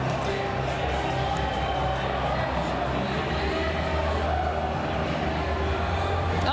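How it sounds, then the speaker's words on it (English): Crowd applause and cheering at the PC Party election-night headquarters in Ontario as results come in, a steady dense roar of many people, with voices mixed through the noise. "We just saw a round of applause, cheers go up here at PC Party headquarters, as you can hear it now too"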